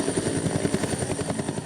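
A helicopter arrives on the runway at Shahjalal Airport during a night emergency drill, its rotor thumping in a rapid, steady pulse, loud and near, with no voices.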